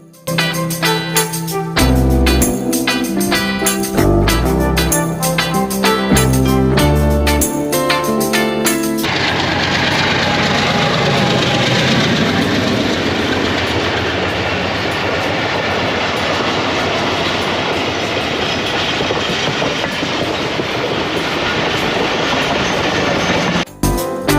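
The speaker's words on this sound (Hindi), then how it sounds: "आधी पहाड़ी पर ही 16 डाउन कराची एक्सप्रेस का वक्त हो गया, लिहाजा वहीं से इस ट्रेन को कवर किया।" Music plays at first, then the 16 Down Karachi Express rolls past in hilly country, filling the air with a loud, continuous roar of wheels and rumbling carriages that slowly fades.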